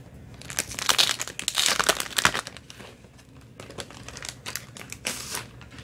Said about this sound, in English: So I'm actually going to open up the stickers.